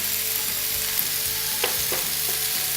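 Rinsed, drained canned cannellini beans go into a pan with nearly cooked garlic and sizzle with a steady, even hiss. A few brief clinks of a utensil against the pan sound partway through.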